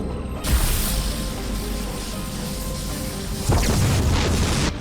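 A pylon is blown up in the StarCraft 2 video game, heard as a loud, rumbling boom that swells at the start and again near the end, over continuous game noise.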